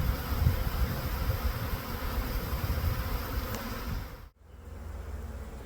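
A dense, steady buzzing of a honeybee swarm pouring into a hive box fills the air up close, droning continuously before a brief dip, then resuming.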